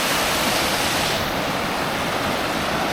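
Nant Melyn waterfall pours in a steady, loud broadband rush, close by and unbroken throughout, with no voices over it.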